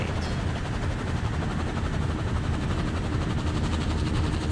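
Helicopter in the Firewatch video game, a steady, loud, rapid rotor chop and engine drone throughout, with no talking.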